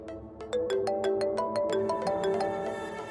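A phone ringtone plays a quick bright melodic pattern of chiming notes, moderately loud, with faint room noise beneath.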